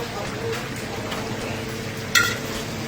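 Food sizzles steadily as it fries in a pan close by, with a brief sharp clatter near the end and faint voices in the background.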